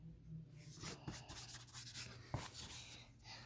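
An eraser rubs back and forth on paper during a pencil drawing, making faint, close scratchy strokes in short repeated bursts with a couple of light taps, quiet and without talking.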